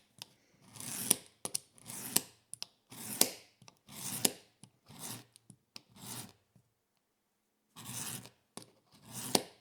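A stitch groover cuts grooved lines into leather, making about eight close, rasping scrapes in short bursts with brief pauses between them and no voices.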